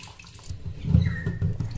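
Tap water runs under a faucet while fish is washed by hand, producing a splashing, sloshing rush that grows fuller partway through, close by and with no voices.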